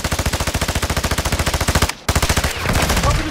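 Rapid, evenly spaced machine gun fire in the shooter Warzone 2, loud and close, a long burst that briefly stops, then a second burst that trails into noisier game sound.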